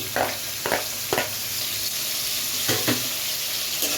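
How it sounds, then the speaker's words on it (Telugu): Chopped onion pieces sizzle in hot oil in a pan, a steady hiss broken by several bursts of spattering as they are stirred. "అందులో ఆయిల్ హీట్ ఎక్కాక ఉల్లిపాయ ముక్కలు వేసుకోవాలి"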